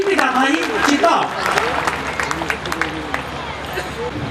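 Audience applause at a Hindi kavi sammelan poetry gathering on an outdoor maidan, clapping swelling under voices and crowd babble throughout.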